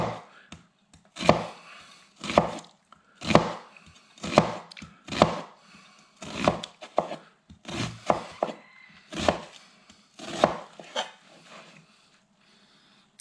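A knife makes vertical cuts while dicing an onion on a cutting board, about a dozen crisp, close chopping strokes in a steady rhythm before the cutting stops.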